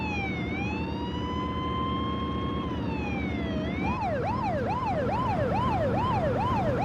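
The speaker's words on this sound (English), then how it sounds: "As the ambulance headed for the hospital, they radioed to the advanced life support unit" Ambulance siren wailing on the way to a hospital, a long slow rising and falling wail that switches to a fast repeating yelp, loud and steady over engine and road noise.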